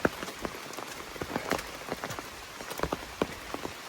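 Steady rain falls on an umbrella on a hiking trail along the Appalachian Trail in West Virginia, a close, continuous patter of scattered drops ticking irregularly, with no voices.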